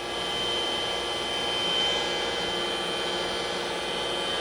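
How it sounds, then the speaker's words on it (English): An internal grinding attachment runs on a 14 x 36 inch Warner & Swasey/Norton universal ID/OD cylindrical grinder, giving a steady, close machine whine and broadband hum with a thin high tone, continuous and without voices. "that's your internal grinder"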